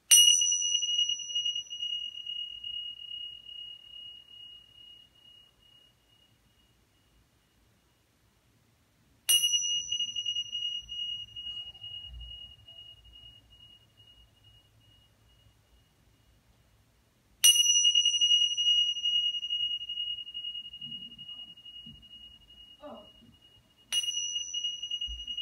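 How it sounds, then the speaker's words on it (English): Small meditation bells chimed by hand, four bright, clear strikes spaced several seconds apart, each ringing out and decaying slowly into silence, with faint soft noises between. "So I'm just going to chime these bells."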